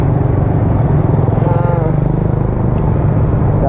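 A motorbike rumbles steadily along a street in Jogja, a continuous engine drone close by that holds for several seconds amid traffic noise.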